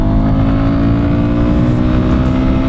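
A Royal Enfield Guerrilla 450 motorcycle's engine drones loud and close with a steady, full roar, as if heard from the rider's seat, with no voices.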